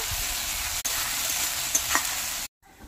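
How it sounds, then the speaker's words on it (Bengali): Spices with salt, turmeric and Kashmiri chili powder sauté in oil, giving a steady, close sizzle with a few stirring scrapes before it cuts off abruptly near the end. "তেলের সঙ্গে মশলা ভালোভাবে কষিয়ে নেব"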